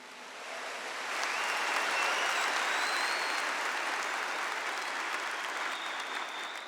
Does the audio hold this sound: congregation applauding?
yes